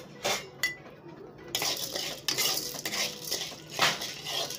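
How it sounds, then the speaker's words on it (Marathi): Corn kernels being stirred with a utensil in hot oil in a pan, giving close scraping and clinking of metal against the pan with a rattling of kernels, steady and fairly quiet. "आता आपण त्याच्यामध्ये मक्का सोडूया। याला 2 ते 3 मिनिटं परत हलवून घेऊया।"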